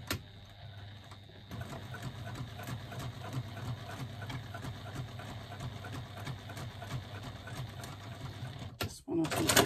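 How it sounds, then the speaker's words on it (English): A sewing machine back stitching a seam, running in a steady close mechanical whir with brief pauses near the start and end, while someone talks quietly over it. "Just one or two stitches at the beginning and the end to secure our threads."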